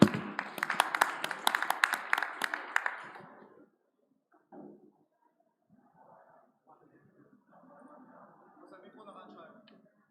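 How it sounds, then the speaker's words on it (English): Audience applause greets a startup presenter coming on stage at a conference showcase, a dense burst of clapping for about three seconds that stops abruptly. Brief scattered noises and quiet talk follow. "welcome him with an applause"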